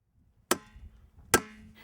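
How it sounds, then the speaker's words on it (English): Two sharp, loud metal hammer blows about a second apart strike a bent balance weight on a Rolls-Royce Silver Spirit, each a bright ringing impact with brief decay, no talk. "Hit it with a hammer to fix it."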